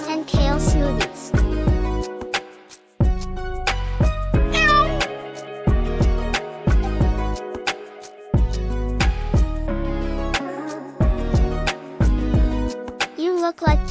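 Several cartoon cats meow repeatedly in an animated story, their calls coming in frequent bursts over a music-like backing that plays throughout.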